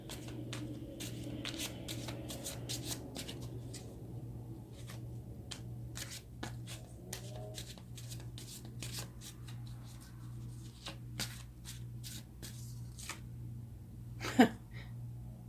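Tarot cards being shuffled by hand, a quiet, close series of papery flicks and riffles with brief pauses between bursts and one sharper snap near the end, over a faint steady hum and no talking.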